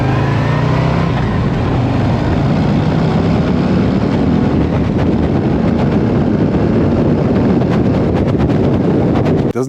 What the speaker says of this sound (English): It's got a very quiet exhaust note. It's still got a lumpy idle